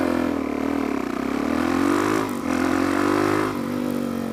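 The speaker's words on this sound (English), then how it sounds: "brake in, loads of revs, slowly let the clutch out till you feel it pick the bike, and then just go" A motorcycle engine revs hard and pulls away on an uphill start, a steady close drone that climbs in pitch with brief dips as the clutch bites and the bike moves off.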